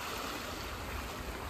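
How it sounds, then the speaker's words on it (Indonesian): A river or stream beside rice fields in the Lirik area, heard on a Sunday morning walk: a steady, even rush of flowing water fills the whole moment with no voices. "Ini ada batang airnya."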